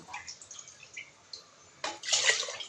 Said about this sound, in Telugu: ఇప్పుడు నేను దీనికి నాలుగు కప్పుల వాటర్ యాడ్ చేస్తున్నానండి